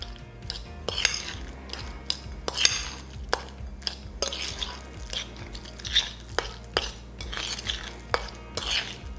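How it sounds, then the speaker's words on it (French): A spoon clinks and scrapes steadily against a bowl as chopped parsley, chives and coriander are mixed, with rapid repeated knocks over a low hum, close up and without speech. "J'y mets mon petit mélange d'herbes. Donc, persil, ciboulette et coriandre. Je mélange bien tout ça."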